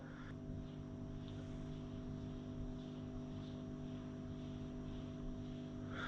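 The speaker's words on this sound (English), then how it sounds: "Thought I heard somebody walking really fast there, but I think it's the wind turbine." A wind turbine hums and whirs steadily, a low, constant drone with faint rhythmic swishing layered over it, heard at a distance and fairly quiet with no voices.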